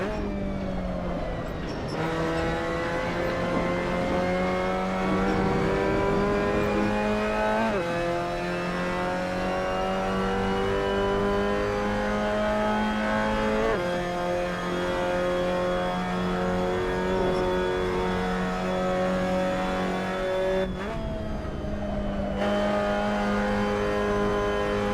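A Mazda MX-5 Cup race car at Zandvoort in Assetto Corsa keeps its engine revving hard and continuously, pitch rising through each gear and dropping sharply at the shifts, and a few brief tire squeals come through, with no talking.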